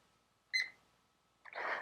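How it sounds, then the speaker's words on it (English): A kitchen timer gives a short electronic beep, followed a moment later by a burst of clatter or rustle, with quiet room tone between. "Let's set that timer."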